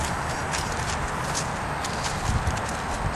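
A Friesian gelding's hooves walk under a steady, noisy outdoor wash, the footfalls blurred and faint against the constant background.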